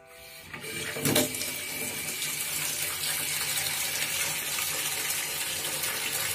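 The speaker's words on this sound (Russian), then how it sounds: "Открываем холодную воду и смотрим, за сколько секунд набежит" Cold water gushes from a tap without an aerator into a bucket, starting with a sharp splash and settling into a loud, steady rushing pour close by.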